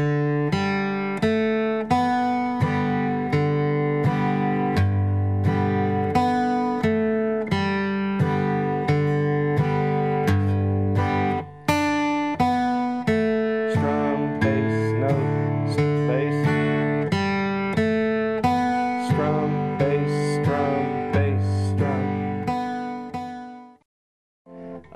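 Flatpicked acoustic guitar plays steady strummed chords with alternating bass notes between the strums, in an even rhythm that stays clear and close for about twenty-four seconds, then cuts off.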